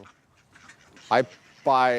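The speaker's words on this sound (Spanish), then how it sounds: "Tengo 42 patos. Comencé con 3 patos hace 3 años." Domestic ducks from a flock of about forty quacking nearby, two loud, nasal quacks separated by a short pause over quieter background sounds.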